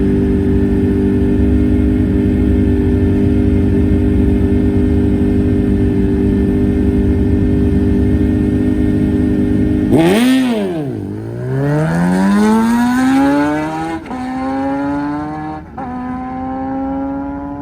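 A Suzuki Hayabusa drag bike on a stock wheelbase, fitted with a Brock's exhaust, runs a drag race. A loud, steady engine roar drops in pitch, then climbs again through several rising gear changes.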